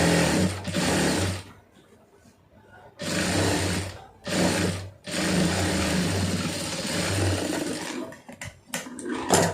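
A home sewing machine stitches fabric in several loud, steady runs separated by short pauses, its motor humming close and unbroken, with no talk over it.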